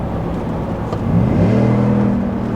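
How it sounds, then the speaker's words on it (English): Exhaust of a 2024 GMC Sierra AT4X V8 pickup in sport mode gives a steady deep drone that swells and climbs in pitch partway through, then holds a loud low rumble close by. "Yeah, you can hear that exhaust again."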